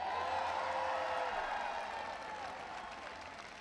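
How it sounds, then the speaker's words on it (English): A large outdoor crowd at a presidential event at the Brent Spence Bridge applauds and cheers for the Secretary of Transportation, a dense, distant-sounding roar of clapping and voices that slowly tapers off. "Give him a round of applause."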